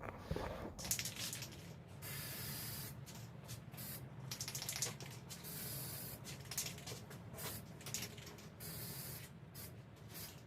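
Spray gun applying clear coat to a Chevy Tahoe grille during a chrome delete, a steady close hiss running in repeated bursts with short pauses between passes, no talking.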